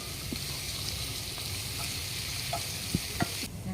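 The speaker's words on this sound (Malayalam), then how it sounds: "തക്കാളി ഇട്ടിട്ട് നമുക്ക് ഒരു അഞ്ച് മിനിറ്റിലേക്ക് ഇതിനെ മിക്സ് ചെയ്യാം" Eggplant curry fries in oil as tomatoes are stirred in, with a continuous close sizzle and a few soft spoon knocks near the end; no voices.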